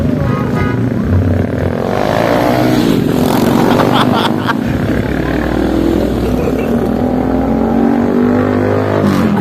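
Motorcycles fitted with open straight-pipe exhausts rev and roar close by in a continuous loud drone that swells mid-way, with people talking underneath.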